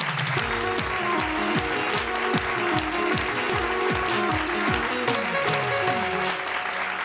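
An audience at a Bhojpuri comedy-poetry stage show claps loudly to welcome a poet, the applause running steadily over a rhythmic, descending musical jingle.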